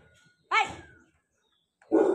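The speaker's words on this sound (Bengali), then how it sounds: "কুকুর এসছে" A dog barks twice, close and sharp, with a pause of over a second between the two barks.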